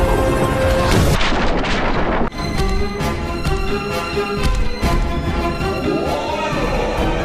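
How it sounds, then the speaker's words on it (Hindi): Booming, crackling bursts from a lava demon spitting fireballs in a children's TV fantasy show, with loud continuous blasts over dramatic music, a sharp break partway through, then more rumbling fire effects. "जब भी कभी इसको अपने दुश्मन को मारने की जरूरत पड़े तो ये अपने मुंह से करता है आग के गोलों की उल्टी"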